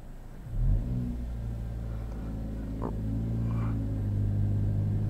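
A 2021 Kia Forte with a manual transmission pulls away as its engine rises into a steady, loud low rumble that builds gradually and holds without any talk over it.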